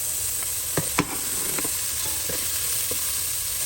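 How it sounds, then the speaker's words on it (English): Onion and garlic sizzle softly in a pan while a utensil stirs with a few light scraping clicks, a steady close hiss with no talking. "Stir and stir."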